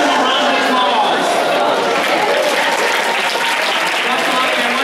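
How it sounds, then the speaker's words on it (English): An audience at a Savannah school event applauds steadily, a dense even wash of clapping that holds loud throughout without a break. "Let's give him a round of applause."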